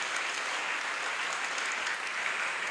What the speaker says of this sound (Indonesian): Kita beri tepuk tangan untuk semua,